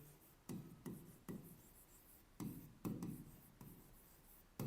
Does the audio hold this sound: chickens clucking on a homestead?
no